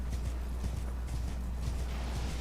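Horse hooves galloping in a rhythmic clip-clop beat in the video game Elden Ring, steady and moderately close over a low constant rumble, with no talking.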